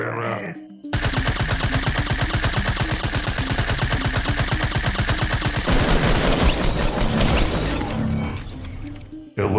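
Rapid automatic gunfire in the Fortnite video game, a long dense burst of evenly spaced shots lasting several seconds, loud and close, trailing into a rougher crackling wash before stopping.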